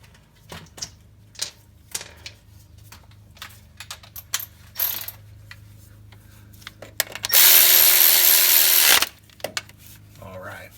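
Ratchet wrench tightening a bolt on the oil cooler line of a 2007-2013 Chevy/GMC pickup with a 5.3 engine: scattered close clicks and taps, then a steady loud ratcheting burst lasting about two seconds, with a low hum underneath.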